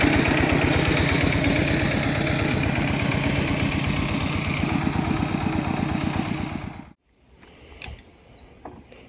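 A Thai two-wheel walking tractor engine chugs steadily and loudly close by, its rapid knocking rhythm holding for about seven seconds before cutting out abruptly, leaving faint background sounds.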